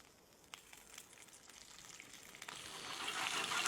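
Chopped onion frying in hot oil in a home kitchen pan, making a soft steady sizzle with faint stirring clicks that grows louder and hissier toward the end.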